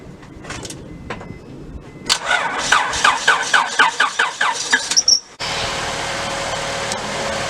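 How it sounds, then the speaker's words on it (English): A 2000 Honda Accord engine starts after a timing belt replacement: a rapid rhythmic cranking for about three seconds, then a squeal as it catches and settles into a steady smooth idle. "Okay, the car started, so woo-hoo!"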